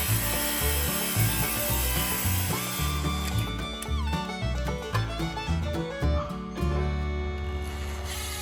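Wood being trimmed square for a countertop in a car hauler RV conversion, a loud continuous sawing and rubbing noise running steadily throughout with rhythmic strokes and no talk.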